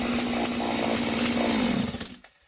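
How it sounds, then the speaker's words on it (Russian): A Stihl petrol chainsaw runs loud and close at idle after starting, a steady buzzing engine drone that cuts off abruptly near the end. "И бензопила у нас завелась на малом ходу."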